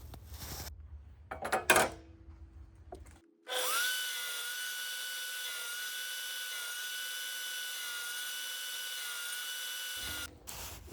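After a few scrapes and knocks, a saw on a crosscut sled starts and runs in a steady, high, whining drone for about seven seconds while cutting notches in Hardie backer board, then cuts off.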